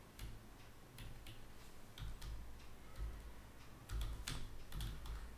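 Steady typing on a computer keyboard while writing in Microsoft Word: quiet, close key clicks in an uneven rhythm, with a few louder keystrokes, and no talking.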